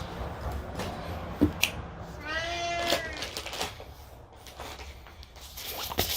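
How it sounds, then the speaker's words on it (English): A pet cat gives a short meow in a room, a brief mid-pitched call with rising harmonic sweeps, heard near and fairly clear over low background rustle and a few faint clicks. "my cat has also decided to come in here and hang out with me"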